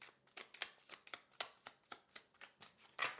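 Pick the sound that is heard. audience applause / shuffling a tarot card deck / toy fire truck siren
shuffling a tarot card deck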